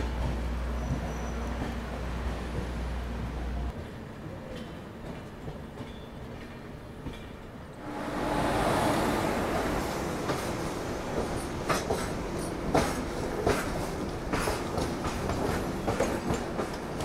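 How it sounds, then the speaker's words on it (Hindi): The Ahmedabad Gorakhpur Express departs Ratlam Junction. A low engine rumble is heard first, then the carriages pick up speed with a rising rush of wheel noise and repeated clickety-clack rail joints, steady and close. "फाइनली अपना डिपार्चर रतलाम जंक्शन से हो रहा है।"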